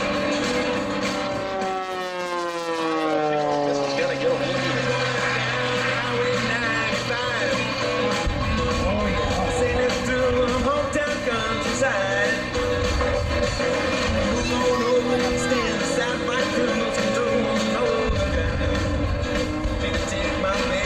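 A jet-powered truck at the Hammond Northshore Regional Air Show makes a low pass with its afterburner flame lit, giving a loud, steady roar with a falling whine as it goes by, over crowd noise.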